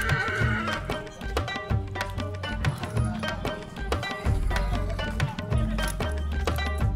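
A stallion at the Pushkar livestock fair gives loud whinnying neighs amid a busy, noisy outdoor fair with clattering and background bustle throughout, and no talking.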